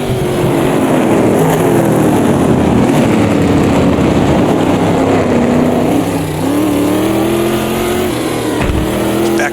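A race car engine in Automobilista 2, an American brute at Rouen, roars loud and close, pitch climbing and dipping through gear shifts under steady acceleration with no talk.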